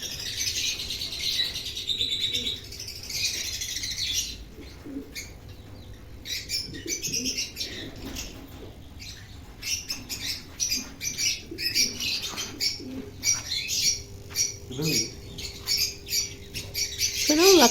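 Lovebird chicks squawk and chirp in rapid, overlapping bursts, close and fairly loud, with brief quieter gaps and some handling noise between the calls.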